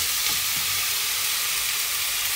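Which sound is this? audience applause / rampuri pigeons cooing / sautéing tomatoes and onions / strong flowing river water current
sautéing tomatoes and onions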